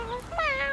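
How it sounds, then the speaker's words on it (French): A cartoon kitten gives a short, high, close meow that bends upward, a tiny single call with no talking over it. "Regarde, c'est un tout petit chat."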